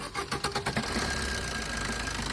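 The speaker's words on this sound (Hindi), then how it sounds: "एक बार भाई कार स्टार्ट करोगे, इसकी स्ट्रोकिंग वगैरह मतलब की आवाज थोड़ी तेज हुई है?" A Maruti Swift Dzire diesel engine runs with its bonnet open, giving a steady mechanical clatter with a quick rhythmic knock. A few louder beats come at the start, then it settles into an even idle up close.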